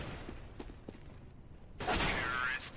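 Two HE grenades in the CS:GO video game on de_dust2 go off close together, giving a loud blast with a hissing rumble after a stretch of faint clicks and clatter.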